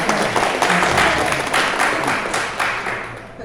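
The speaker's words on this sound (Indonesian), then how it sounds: "Tepuk tangan buat Bapak Ibu semua." Broad, steady applause from an audience, dense clapping filling the whole stretch at a loud, even level before easing slightly near the end.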